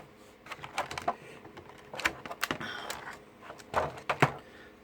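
Scissors snip and crunch through plastic toy packaging for a Transformers Power of the Primes figure, with irregular close clicks, cuts and rustling in uneven bursts.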